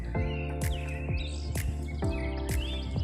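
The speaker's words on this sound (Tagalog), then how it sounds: "Daming ibon." Repeated bird chirps and calls ring out over a steady low rumble, several sharp bursts recurring in a loose rhythm, fairly close and clear.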